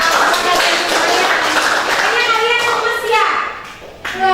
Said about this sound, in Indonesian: Dia kasih tepuk tangan.